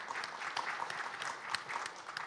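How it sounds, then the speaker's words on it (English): Steady audience applause fills a conference hall after a talk on social impact assessment, with a dense, even patter of many hands clapping at close range for a couple of seconds and no voices over it. "Please give Richard a round of applause."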